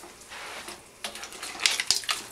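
Cooked al dente spaghetti being tossed with mussels and scallops in spicy tomato sauce using tongs and a spoon, giving soft wet slaps and clinks that build into several louder bursts toward the end, no talking.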